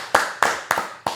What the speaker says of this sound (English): Let's go clap it up for the boy.